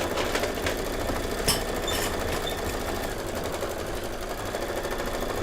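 An embroidery sewing machine stitches a Kimberbell design with a quiet, rapid, even mechanical clatter and a few brief louder clicks, running on its own without voices.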